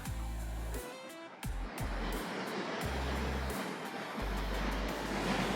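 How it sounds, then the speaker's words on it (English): Ocean waves on the isolated Madeira coastline at Paul do Mar: a steady, loud wash of surf with rolling swells and a deep low rumble, continuous throughout with no voices. "I can actually stay here and just watch these waves all day."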